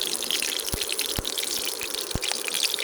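Eggplant pieces dropped into hot mustard oil mixed with a little soybean oil, giving a steady hissing sizzle broken by a few sharp clicks and thumps, close and alone without talk.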